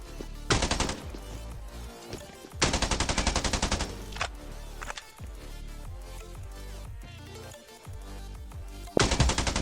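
Automatic gunfire in the battle royale game Scarfall 2.0 on the Andaman map, with several loud rapid bursts separated by quieter stretches of in-game ambience.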